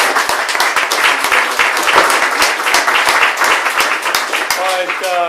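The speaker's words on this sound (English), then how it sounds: "I just want to give one more round of applause for Chris and taking time for that." Audience applause at a Startup Grind tech meetup in Melbourne, a steady wash of many hands clapping throughout, with a voice beginning to speak near the end.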